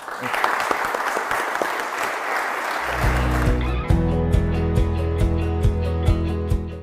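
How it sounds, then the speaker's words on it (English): An audience at a Delaware candidate forum applauds a candidate in a steady wash of clapping that fades after about three seconds, giving way to rhythmic music with a pulsing beat. "Everybody, please join me in a round of applause for Mr. Ramon."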